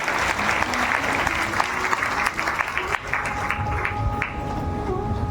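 An audience at a Hindu wedding ceremony applauds, dense continuous clapping from a large crowd that holds steady for several seconds, with faint voices and music underneath.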